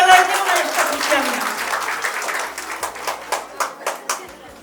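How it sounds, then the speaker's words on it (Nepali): Guests at a Nepali Christian wedding break into applause for the couple, a dense burst of clapping that thins out into a few sharp, separate claps near the end, with voices mixed in. "ताली बजाइदिउँ न यस्तो खुसियाली"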